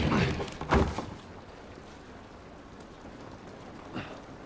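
Rain falls steadily outdoors in The Last of Us, a soft, even patter of drops with a few louder thumps and rustles near the start.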